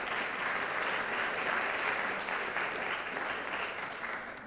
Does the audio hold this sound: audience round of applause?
yes